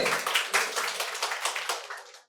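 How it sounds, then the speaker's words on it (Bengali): An audience at a medical college quiz competition claps for a winner, a lively burst of many hands that is loud at first, gradually thins and fades, then stops abruptly. "হাততালি একবার জোরে"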